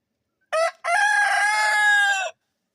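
Rooster crowing once at close range in a backyard coop on a rainy day, a short opening note then a long drawn-out call, with silence before and after.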